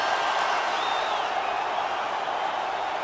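A UFC arena crowd roars and applauds after a knockout, a dense, steady wash of cheering and clapping filling the whole stretch with no break, with a faint whistle rising briefly.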